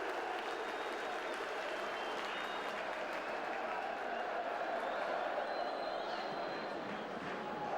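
A large stadium crowd at a 2005/2006 Preston North End v Southampton Championship football match applauds steadily throughout, a dense wash of clapping with faint cheering mixed in, sounding distant and continuous.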